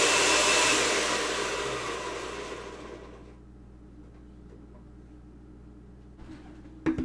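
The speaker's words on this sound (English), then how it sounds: "I have my 1/4 cup of tahini in the fruit processor, and I'm going to process for a minute" A food processor blends tahini for hummus, running loud and steady and then dying away as the motor winds down, with a faint bump near the end.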